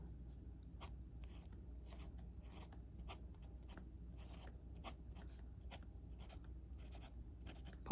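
An ēnsso XS pocket fountain pen filled with Kaweco Smokey Grey ink scratches across low-quality paper in steady, close, quiet strokes with slight feedback rasp.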